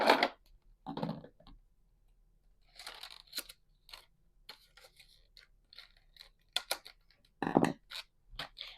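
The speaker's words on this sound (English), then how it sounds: "Scissors. I need scissors." Scissors snipping and working open plastic planner packaging, a run of short dry cuts and crinkles, near and close, with quiet gaps between bursts and no talk.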